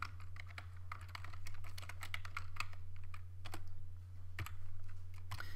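Quick, irregular keystrokes clatter on a computer keyboard, close and fairly quiet, over a steady low electrical hum.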